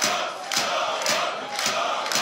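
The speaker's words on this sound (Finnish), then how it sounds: "Mutta yleisö uskoo edelleen The Rebel StarBuckiin. Kuuntele tätä meteliä" A loud, dense crowd roars for The Rebel StarBuck at a match against Italy's Fabio Ferrari. The cheering swells in steady surges about twice a second, like rhythmic chanting, and fills the whole stretch.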